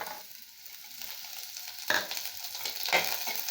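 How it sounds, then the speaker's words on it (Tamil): Curry leaves and softened onions are sautéed in a pan for carrot beans poriyal, a quiet steady sizzle with two louder bursts of hissing as the mixture is stirred or tossed. "கருவேப்பிலை போட்டுட்டு நல்லா வதக்கிடணுங்க"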